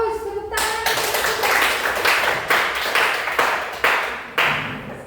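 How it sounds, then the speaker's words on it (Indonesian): Classroom applause after a teacher's prompt, with a burst of rhythmic hand clapping from a group of students, sharp repeated claps in near-unison, fairly close and loud, lasting several seconds. "Tepuk tangan."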